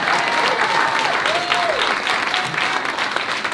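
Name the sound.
audience applause at a political rally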